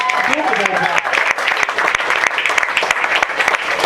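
A crowd applauds and cheers for football players Jacoby Jones and Dennis Pitt, with loud, sustained clapping throughout and a voice speaking over it.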